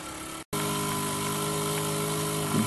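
Model steam engine running on a cheap steam cleaner set to its lowest heat, a steady close mechanical whir with a brief cutout near the start, then continuous running, no voices.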